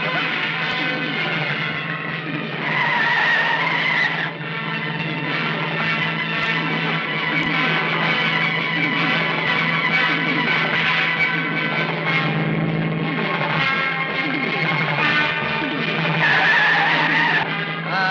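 Jeep chase from the 1990 Marathi comedy film Baap Re Baap: a loud, continuous engine roar with tyre skidding and squeal rising and falling, layered with a steady hum and effects.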